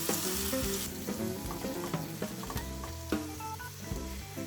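Green beans and dressing sizzle steadily in a pan while a utensil scrapes and clatters through them in quick, irregular strokes.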